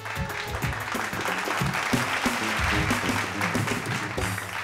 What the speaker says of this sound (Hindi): जोरदार तालियां संजना जी ला